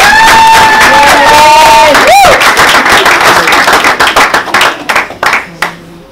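A church congregation bursts into loud clapping and acclamation after a musical tone, a dense wave of applause and cheering that gradually thins into scattered claps before fading.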